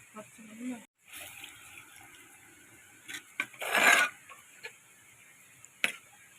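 Water splashes into a pan in a short close burst, surrounded by light clinks and taps of kitchen utensils.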